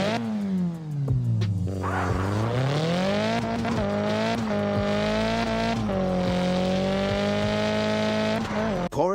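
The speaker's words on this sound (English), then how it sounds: "CarX Drift Racing 3 is a solid drifting game that offers a lot of content and replayability" A drift car in the racing game CarX Drift Racing 3 holds a loud, continuous engine whine that dips and climbs with throttle changes, sustained tire squeal running alongside as the car slides.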